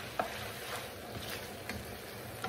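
Zucchini pasta being stirred in a pan gives a faint, steady sizzle, with a few soft utensil scrapes and clinks against the pan.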